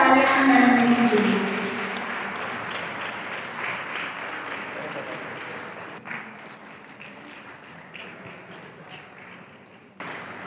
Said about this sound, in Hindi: जोरदार तालियां हरवाल जी के लिए